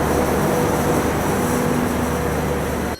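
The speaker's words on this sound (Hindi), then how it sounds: "ये है ट्रेन नंबर 12157 पुणे शोलापुर हुतात्मा एक्सप्रेस" Steady rumble and hum of the Pune–Solapur Hutatma Express, train number 12157, at a station platform, a continuous loud drone with a faint tonal whine and no talk.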